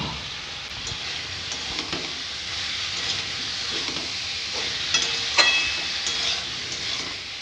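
Fried vegetables and salt go into a cooked-down spice paste in a pan for a home-style fish and vegetable curry, giving a steady broad sizzle with a few brighter crackles and clinks around the middle, close and continuous.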